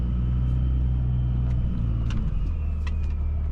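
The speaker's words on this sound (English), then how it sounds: "pulling up to the local Ram dealership to turn in my 1 million mile truck" A Ram 2500 pickup with a Cummins diesel engine, over a million miles on it, pulls up at a dealership; its steady low engine rumble runs loud and close throughout, with light rattles and clicks on top.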